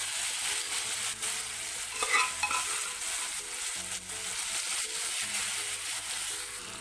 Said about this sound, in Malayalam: പിന്നെ നമ്മൾ വേവിച്ച് വെച്ചിട്ടുള്ള കടച്ചക്കയും കൂടി ഇതിലേക്ക് ഇട്ട് കൊടുക്കാം.